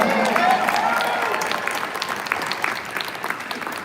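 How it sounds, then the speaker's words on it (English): Steady audience applause at a live stream event, dense crowd clapping that holds strong and slowly tapers over a few seconds. "One more round of applause."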